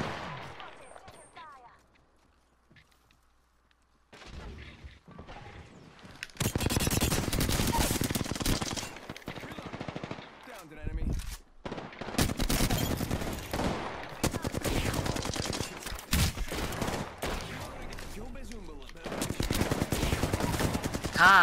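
Automatic weapon fire from the video game Apex Legends rattles in long rapid bursts after a quiet opening, loud and close, with a player's voice talking over parts of the shooting.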